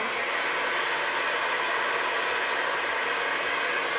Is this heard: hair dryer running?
yes